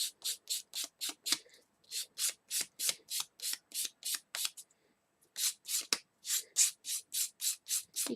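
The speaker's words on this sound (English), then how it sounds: "Keep your emery board going down the side of your peg, because if you go upwards, you're going to pull it off." Emery board rubbed down the side of a wooden peg in steady, rhythmic strokes, about twenty close scratchy passes with a brief pause partway through, loud and alone.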